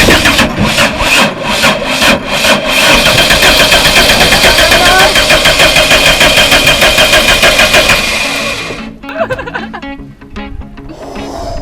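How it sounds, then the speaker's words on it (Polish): Attempt to start the new engine of an old bus: a starter cranks in quick rhythmic bursts, then grinds steadily and loudly for several seconds before stopping, followed by scattered clunks and a brief second crank. "Pierwsze podejście do odpalenia nowego silnika."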